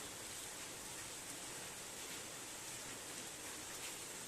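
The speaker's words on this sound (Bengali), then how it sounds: "গাছপালাগুলো বৃষ্টিতে ভিজে ভিজে যেন মনে করছে কখন বৃষ্টিটা থামবে" Steady, faint rain falls on a quiet, empty street and trees, a continuous even hiss with no other sounds.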